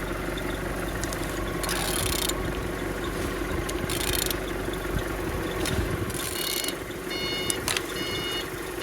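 A Z13DTH diesel engine is turned over by hand, giving a continuous mechanical whir and hum with a steady drone and periodic ratcheting clicks, close and fairly quiet, with no voices.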